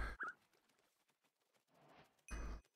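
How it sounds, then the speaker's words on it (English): A chicken in Minecraft gives a few soft clucks, with faint footsteps and other quiet game sounds around it and a louder burst near the end. "Chicken."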